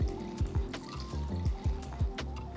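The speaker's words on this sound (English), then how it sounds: "Use the same cup to measure water and pour in 6 cups." Water pours from a cup into a pressure cooker holding soaked rice and dal for sambar rice, a close, bubbling glug with repeated falling gurgles and splashes over a few seconds, with no talking.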